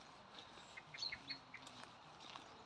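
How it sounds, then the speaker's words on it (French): Several birds call and chirp faintly at a distance in a forest by a river, over a quiet outdoor background, with brief scattered notes and no talking. "On entend plein d'oiseaux."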